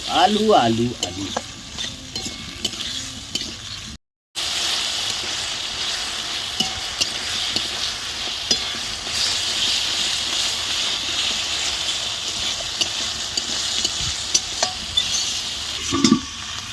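Potatoes tossed into a pan in a village kitchen sizzle loudly and steadily while a utensil scrapes and stirs them, close up and with no voices.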